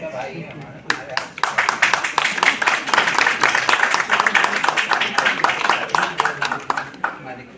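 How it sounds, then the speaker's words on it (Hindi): Audience applause at an award ceremony in a hotel, dense rapid clapping that swells after a brief lead-in and stays loud and sustained before thinning at the end, with some voices mixed in. "एक बार जोरदार तालियां हो जाए शेखर सर के लिए"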